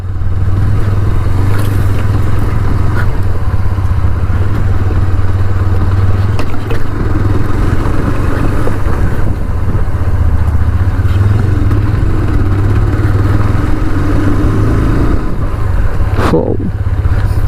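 TVS Apache 160 2V motorcycle, 2025 model, on a test ride, its engine drumming with a loud, steady low rumble and some wind noise, with a passing whoosh near the end.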